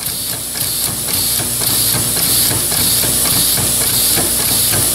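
A steady, continuous mechanical chugging with loud hissing air from a homemade pneumatic engine with a flywheel, running evenly at a constant pace throughout.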